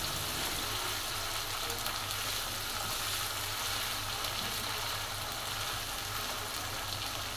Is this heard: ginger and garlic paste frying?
yes